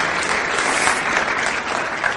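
Loud, sustained clapping from a large audience at a speaking event, a thick even wash of many hands that holds steady throughout, with no voices heard.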